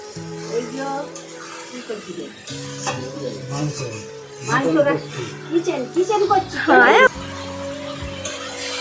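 Pointed gourd and potato slices sizzle in a pan with occasional stirring and clinks of a utensil, heard under steady close conversation.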